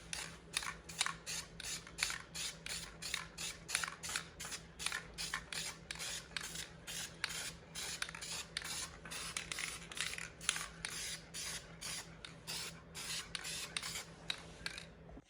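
A 1985 5HP Sears Craftsman snowblower cylinder head being spray painted, with quick repeated hissing spray bursts in a steady rhythm, close and fairly faint, over a low background hum.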